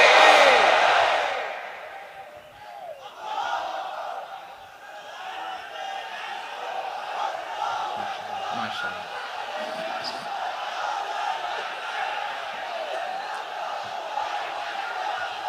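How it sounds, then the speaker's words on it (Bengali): A large congregation at a Bangladeshi Islamic waz sermon shouts the takbir together: a loud, full-throated crowd roar at the start that fades away, then a voice carries on over a lingering murmur. "তাকবীর পড়ুন, লিল্লাহি তাকবীর"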